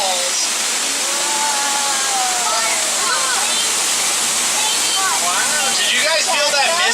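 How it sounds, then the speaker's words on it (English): Schweitzer Falls pours in a loud, unbroken rushing roar of water heard up close, with faint higher warbling tones drifting over the steady wash. "now we're heading toward the beautiful Schweitzer Falls"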